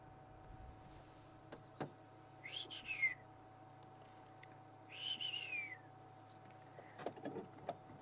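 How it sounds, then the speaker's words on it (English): Two separate bursts of high, thin whistled calls from whistling ducks (tree ducks), each lasting about half a second, faint and set apart by quiet hum. "Whistling ducks, they call them."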